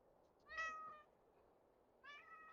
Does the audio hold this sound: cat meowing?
yes